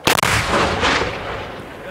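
An 1850s Dahlgren boat howitzer fires a single loud, close cannon blast with a sharp report, followed by a long rumbling echo that decays slowly.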